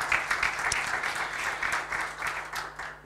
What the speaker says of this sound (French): Donc on peut applaudir Aymar pour cette présentation extrêmement précise